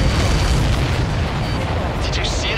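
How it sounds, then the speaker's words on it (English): An explosion in the flight combat game Ace Combat 7: a loud, deep, sustained boom and rumble that fills the whole clip, with a sharper burst near the end. "Did you see that explosion?"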